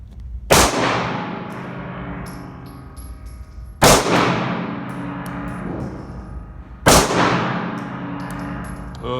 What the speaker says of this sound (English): There's Jack shooting the CZ75B.